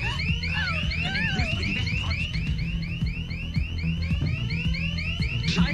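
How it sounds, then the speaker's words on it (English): An alarm blares continuously with a rapid, repeating warbling whoop, loud and near, over low rumbling background noise and faint voices. "Mach den Alarm aus."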